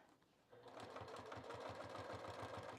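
A sewing machine stitching a pair of Breezy overalls just below the metal grommets, starting after a brief pause and then running in a steady rapid rhythmic chatter of needle strokes, close and clear.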